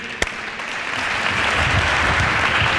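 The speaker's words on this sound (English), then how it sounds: "I just want you to give an applause for the team just to get in ready." Applause for a team at a FIBA youth strength-and-conditioning clinic, starting after one sharp clap and swelling into steady group clapping that holds at even loudness to the end.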